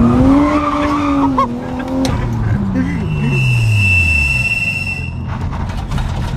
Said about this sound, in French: Tu peux te servir du frein à main, appel contre appel, coup d'embrayage.